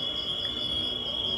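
Crickets chirp outside at night in a steady, unbroken high trill that continues throughout, alone with no voices and only a faint low background rumble.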